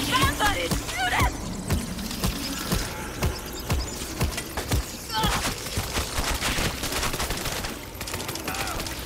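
Rapid gunfire in the zombie shooter game World War Z, dense bursts of shots crackling throughout over a constant noisy bed, with people talking over the shooting.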